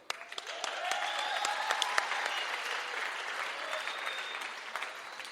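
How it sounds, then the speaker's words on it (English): An audience claps for a sound effects crew after a show, a full, even round of applause with sharp individual claps at the start, steady throughout. "Can you get one more applause for these wonderful actors?"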